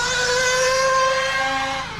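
A Serpent 1/8 RC buggy runs on a club track, its small high-pitched engine whining steadily nearby before fading slightly at the end.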